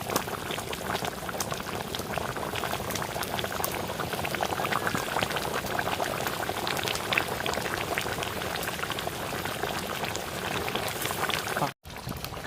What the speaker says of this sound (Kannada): ಚಿಕನ್ ಚೆನ್ನಾಗಿ ಕುದಿ ಬರ್ತಿದೆ